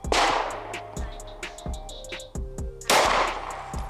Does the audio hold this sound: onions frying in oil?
no